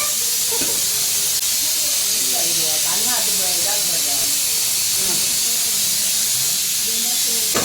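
Steady loud steam hiss from a pressure cooker cooking biryani, running continuously with people talking underneath it.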